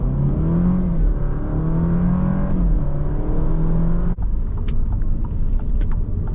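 A 2021 Alfa Romeo Giulia Ti accelerates at full throttle out of a corner near 50 mph, heard from inside the cabin as a loud rising engine drone climbing in pitch, then a sudden gear change and a renewed deep rumble.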